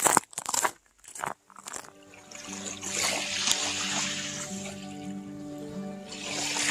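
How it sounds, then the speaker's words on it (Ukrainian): Calm sea water laps softly with gentle splashing, steady and close, after a few brief louder splashes at the start; no voices. "Просто ідеальне море."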